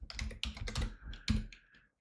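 Rapid clattering keystrokes on a computer keyboard, close and fairly quiet, continuing steadily for about two seconds before stopping.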